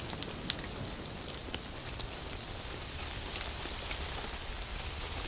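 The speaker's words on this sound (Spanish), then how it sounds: "Empezó a llover." Steady rain falls outdoors near a cliff above a rough sea, a dense, even hiss with scattered sharper drop ticks throughout, with no voices.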